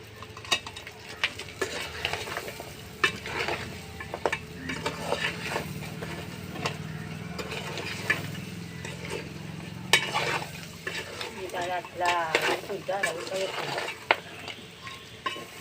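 Food cooks in a pot over a wood fire, with a bubbling, sizzling simmer, utensil stirring and clinks, and occasional scrapes against the pot, close and moderately quiet, no talk.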